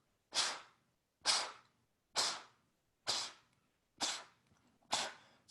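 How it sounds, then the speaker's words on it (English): Six short, sharp breath exhales in a steady rhythm, about one per second, from yoga breathwork, each a forceful burst of air through the nose or mouth, close and fairly loud with quiet gaps between. "then short, sharp exhales"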